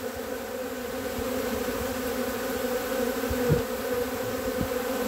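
A dense swarm of thousands of honeybees hums steadily and close by, with a constant layered buzz and occasional louder passes as individual bees fly near.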